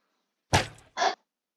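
Minecraft crossbow on the CubeCraft server: a sharp, close thunk that trails off, then a second short, bright burst a moment later, with silence around them.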